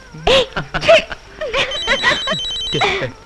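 A telephone rings with a faint electronic trill under people talking nearby.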